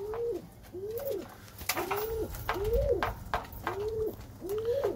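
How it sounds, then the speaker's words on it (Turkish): Bango pigeons coo close by, giving six evenly spaced, rising-and-falling coos in a steady rhythm with faint rustling in the background. "Şimdi güvercinlerimizi görüntüleyelim."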